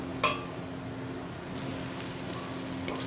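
Masala with onion and garlic sizzles in a pan after a splash of water goes in, a soft, steady hiss that rises a little halfway through, with a couple of faint clinks.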